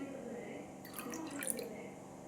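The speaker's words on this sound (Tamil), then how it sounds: "இப்போ நம்ம டம்ளரில் அளந்து தண்ணி ஊற்றி" Half a measured tumbler of water is poured into a pan while making rice puttu, giving a soft, close trickle with light dripping and splashing against a faint background hum.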